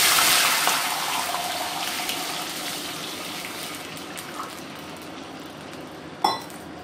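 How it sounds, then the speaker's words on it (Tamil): Water pours steadily into a pan on a stove set to low heat while thavala adai is being cooked, a loud gushing flow that slowly fades, followed by a single clear metallic clink near the end. "நாபை சிம்மில் வச்சுண்டு தண்ணி விடுங்க."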